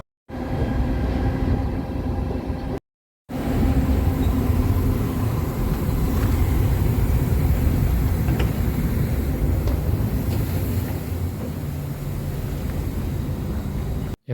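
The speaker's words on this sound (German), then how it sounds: "da hinter mir ist auch schon der Zug, bei dem es jetzt weitergeht." Train interior at Stendal station in Germany, an older carriage without air conditioning: steady, loud rumble of rolling stock and running machinery throughout, with a short gap near the start and no talking.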